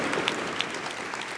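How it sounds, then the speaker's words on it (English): Audience applause breaks out at a Clinton Global Initiative University 2015 event, a steady wash of many hands clapping throughout, fairly distant and continuous with no talk over it. "So a round of applause to all of those teams, please."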